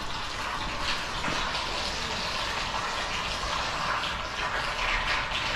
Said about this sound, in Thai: เพื่อนๆได้ยินเสียงน้ำเดือดกันไหมครับ